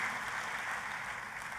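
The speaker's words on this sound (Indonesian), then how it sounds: "Tepuk tangannya yang paling meriah buat Tuhan kita" A church congregation claps together in steady, sustained applause, with a dense and even wash of clapping and no pauses.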